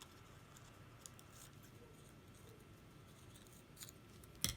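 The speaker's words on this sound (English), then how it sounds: "This is a great technique for you to cut individual spikes out" Scissors snip individual spikes out of a textured craft piece: faint, sparse, quiet clicks over near silence, with one sharper cut near the end.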